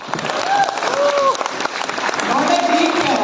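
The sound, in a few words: audience applause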